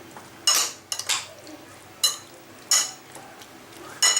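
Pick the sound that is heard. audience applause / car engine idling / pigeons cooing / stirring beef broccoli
stirring beef broccoli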